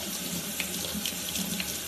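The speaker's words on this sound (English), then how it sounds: "just put them under running water" Steady running tap water splashing into a sink while rinsing lentils, continuous and close, with small bursts of droplets and no voices.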